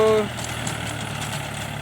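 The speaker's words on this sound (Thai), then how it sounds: "รถไถนะครับ EF 39 393T" A Yanmar EF393T farm tractor idles in a rice field, its low steady engine rumble running continuously and fairly close, after a brief tonal beep at the start.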